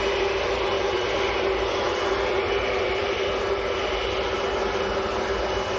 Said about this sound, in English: We've got Corendon Airlines taxiing out as well.